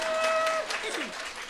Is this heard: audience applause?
yes